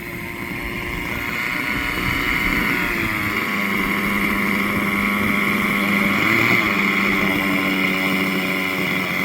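A 1980s-era German nitro RC helicopter engine runs at a steady high-pitched whine with a buzzing drone, loud and close, holding nearly constant throughout without speech.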